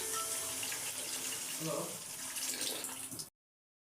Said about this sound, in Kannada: ನೋಡಿ ನೀರು ಸ್ವಲ್ಪ ಹಾಕ್ಕೊಳ್ತಾ ಇದ್ದೀನಿ